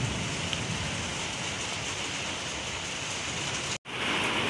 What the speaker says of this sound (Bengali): বেশ ভালো রকমভাবে বৃষ্টি পড়ছে,